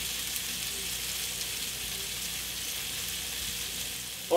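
Mustard-coated beef tenderloin steaks sear in a hot pan, a steady close sizzle and fry running evenly throughout, with a brief knock at the very end and no talking.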